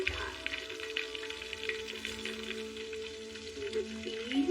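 Steak sizzles and crackles in hot oil in a pan, a steady close frying hiss with small pops, with no talking over it.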